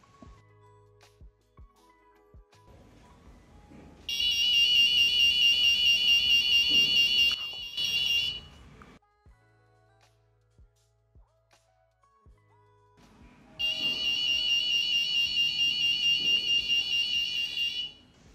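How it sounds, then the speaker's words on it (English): A piercing electronic alarm buzzer from an Arduino door security system with an IR sensor, powered by a 9 volt battery, sounds in two long, steady bursts of several seconds each, separated by quiet clicks and handling noises. "when someone tries to open the door, the buzzer start making the sound."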